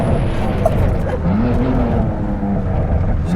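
A BMW M2 Competition of about 500 hp rumbles close by with a deep exhaust note and a brief rise in pitch mid-clip, while people talk over it in a private parking lot.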